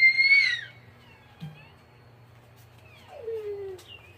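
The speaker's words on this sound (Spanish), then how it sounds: "Escuchando a los pajaritos cantar." Clear, isolated bird whistles and chirps ring out with quiet pauses between them, a faint low hum underneath.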